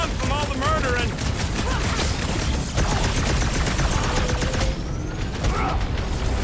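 Gunfire from the video game Marvel's Guardians of the Galaxy, rapid dense bursts of shooting during a frantic battle, continuous and loud, with voices talking over the action.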